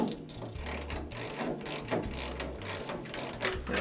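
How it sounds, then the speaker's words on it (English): Bolts being forced through a pan gasket while a car body is installed onto its pan, heard as a steady run of close ratcheting clicks in quick repeating bursts, with no talk. "So now I have to pierce with a screwdriver and force the bolts past the pan gasket."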